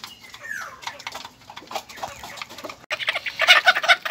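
Hens in a small backyard chicken pen cluck and squawk close by in a busy, irregular chatter that grows louder toward the end.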